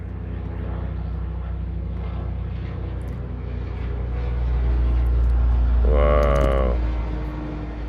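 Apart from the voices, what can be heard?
helicopter flying overhead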